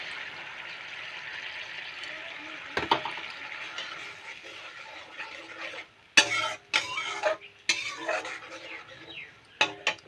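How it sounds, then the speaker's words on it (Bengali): Mixed spice masala is tipped into a pan of frying Bengali home cooking and stirred, giving a steady sizzle under scraping strokes, then a run of loud, sharp clinks and knocks of the spoon against the metal pan. "এখন এই যে মিক্সড করা মশলাটা আমি ঢেলে দেবো"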